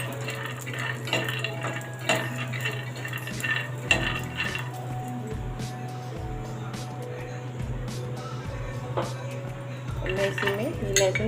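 Peanuts lightly roasted and stirred in a pan for peanut chutney, a spoon clinking and scraping against the metal in steady irregular strokes over a constant low hum, close and moderately loud.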